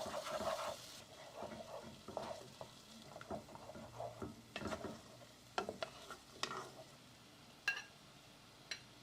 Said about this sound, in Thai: เราต้องผัดน้ำพริกกับกะทิก่อน